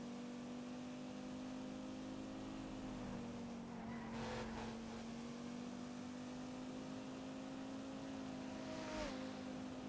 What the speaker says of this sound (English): Is there a street race around here or something?